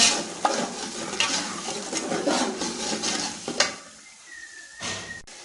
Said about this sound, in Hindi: अभी हम इसमें मटर ऐड करेंगे और मटर जो है ना फ्राई कर लेंगे।